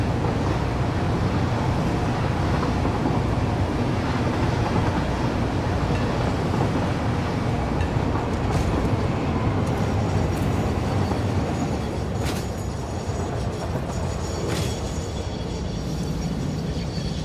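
Train cars roll along rails in a factory-building video game, a steady dense rumble with a washing, surf-like texture that holds loud and continuous throughout, with a few faint clicks near the end.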